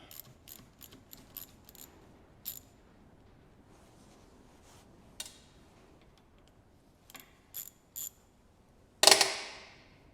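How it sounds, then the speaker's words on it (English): Sparse metallic ticks and ratcheting clicks from a wrench loosening bolts on top of a Land Rover Series 3 steering relay casing, scattered and close, ending in a sharper clank. "at the moment I'm just going to remove the bolts off the top"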